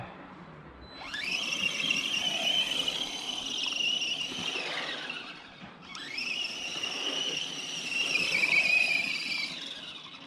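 An Arrma Granite Mega brushless 2S RC car, 2000kv motor with 14-tooth pinion, runs at minimum speed with a high, whining electric motor squeal in two long sustained passes, fairly close with no talking.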